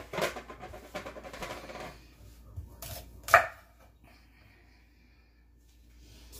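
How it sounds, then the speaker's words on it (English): A knife cuts broccoli florets on a board: a series of close, irregular chopping taps over the first three seconds, ending in one sharper cut, then near quiet. "So we're just going to cut the florets."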